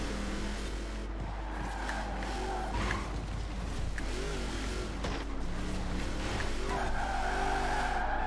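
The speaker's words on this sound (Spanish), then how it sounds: "este parece un coche de drift más que un todoterreno" Ford Raptor drifting in a racing game, tires skidding and squealing steadily over a continuous engine drone, loud and close for the whole stretch, with no talk.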